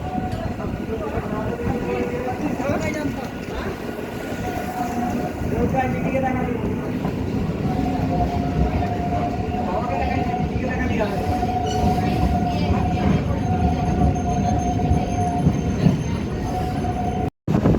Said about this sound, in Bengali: সো আমঘাটা যাওয়ার ট্রেন এই মুহূর্তে ছেড়ে দিয়েছে প্ল্যাটফর্ম নাম্বার চার থেকে